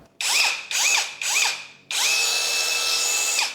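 A Tekiro CD-RH2265 cordless brushless rotary hammer switched on: three short whirring bursts with rising and falling pitch, then one longer steady high run of about a second and a half, close and loud, with no talking.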